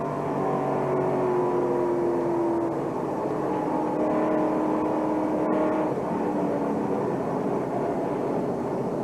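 Onboard NASCAR race car at the 1999 NAPA Auto Parts 300, a steady loud engine drone with shifting tonal whine throughout, no talking.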